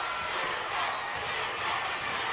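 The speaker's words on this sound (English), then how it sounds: "The crowd, you can hear them chanting, Duggan, Duggan" A 1986 UWF wrestling arena crowd, a dense, steady roar of many voices chanting for Jim Duggan, loud and continuous with no pauses.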